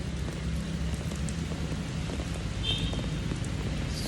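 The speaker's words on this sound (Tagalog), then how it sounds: "ulan kaayo diri sa kaligutan" Heavy rain pours down in Kaligutan as a steady, dense wash of noise, close and unbroken throughout, with no voices.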